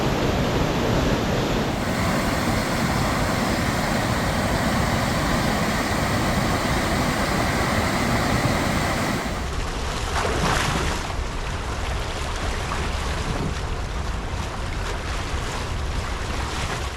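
A waterfall swollen by historic heavy rains roars in a dense, continuous wash of rushing water, loud and unbroken, with gusty wind buffeting the microphone.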